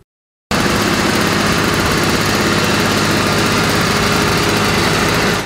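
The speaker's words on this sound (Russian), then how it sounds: "Небольшой, но поворотливый трактор уже давно заменил Игорю Минину лопату" A small homemade tractor engine runs at a steady, loud, rapid putter close by, starting suddenly after a brief silence and holding an even, buzzing drone with no speech.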